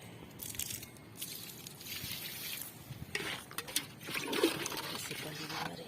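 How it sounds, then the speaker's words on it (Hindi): Water trickling and splashing onto a dry farm field during irrigation, poured by hand instead of through a sprinkler, with a steady wet patter and bursts of splashing under a continuous outdoor wind. "हम अपने खेत को पानी लगाएंगे इस तरीके से।"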